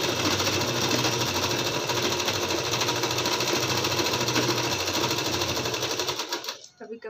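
A sewing machine runs steadily for about six seconds, stitching a suit's lining with a dense, even mechanical whir, then stops abruptly near the end.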